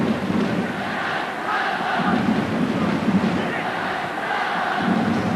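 Enthusiastic Japanese football crowd at the 2001 AFC-OFC Challenge Cup final against Australia, chanting and celebrating in a steady, dense roar of massed voices that swells in waves, distant and continuous throughout.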